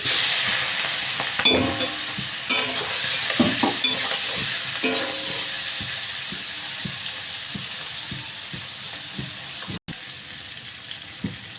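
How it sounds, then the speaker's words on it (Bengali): Tiger prawns go into hot oil in a wok-like kadai and fry with a loud, close, steady sizzle, with crackling pops and stirring clatter early that settle into an even hiss. "আমার তেলটা গরম হয়ে গেছে এবার আমি বাগদাগুলো দিয়ে দেবো"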